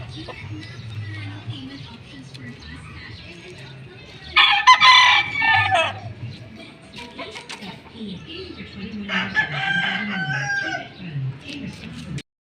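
Fighting roosters kept by caretakers crow loudly in two long bursts amid steady clucking from nearby fowl, with a person talking quietly underneath.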